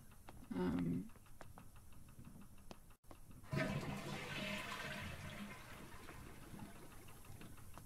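A toilet flush in the video game Botany Manor: a brief watery gurgle, then a loud rushing swirl of water that settles into a steady, fading drain hiss.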